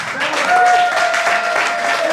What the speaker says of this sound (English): Give a big round of applause for Tom.